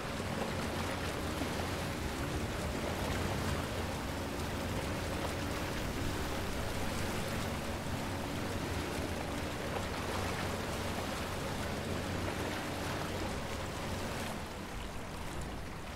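Steady rushing water and churning hum of a small boat moving across water in Resident Evil Village, a continuous even wash of noise throughout with no talking.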